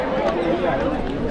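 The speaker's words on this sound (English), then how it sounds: "See the crowd." Weekend crowd of visitors milling around the Taj Mahal in Agra, a steady dense murmur of many voices and footsteps close by.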